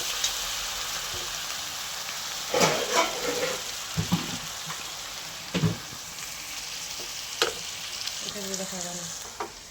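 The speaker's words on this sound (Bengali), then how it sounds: "1 চামচ আদা পেস্ট দিলাম, পরিমাণ মতো আদা পেস্ট। এবার ভালো করে ঘেটে নেবো মশলার সঙ্গে।" Ginger paste and spices frying in a pan, with a steady hiss of sizzling and a few scattered knocks and scrapes of stirring, close and moderately loud, faint voices in the background.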